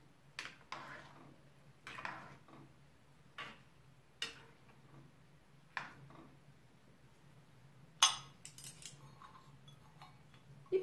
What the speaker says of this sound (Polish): Dokładnie wymieszam.